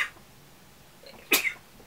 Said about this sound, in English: Yeah, I'm about to sneeze right now.